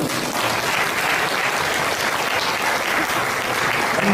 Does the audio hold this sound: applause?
yes